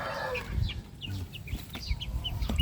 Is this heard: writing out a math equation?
no